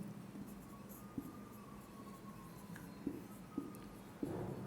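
Pen writing on paper in a quiet room while numbers are worked out, with a soft continuous scratch broken by a few light taps, close and faint.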